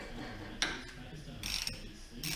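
Ratcheting wrench undoing 20mm handlebar riser bolts on a 2017 Harley Davidson Dyna Wide Glide, with quiet metallic clicking bursts in short irregular spurts, close by.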